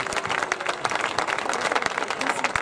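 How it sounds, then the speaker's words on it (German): Sustained audience applause rings out at the closing ceremony of a 2CV Citroën owners' world meeting in France, a dense steady patter of many hands clapping throughout, fairly loud with faint crowd murmur beneath. "Please reserve the greatest applause for all the volunteers of the organization."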